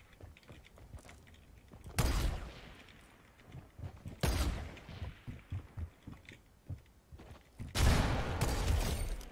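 Bursts of gunfire erupt in a shooter video game, three loud heavy volleys spaced a couple of seconds apart, with quieter scattered shots and thumps between them.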